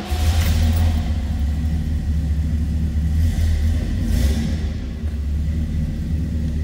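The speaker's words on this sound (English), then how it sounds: "First of all, let's start it up, let you hear it run." A classic car with an era-correct 400 cubic inch 442 engine runs at a steady idle, a loud, deep, continuous rumble close by with no voices.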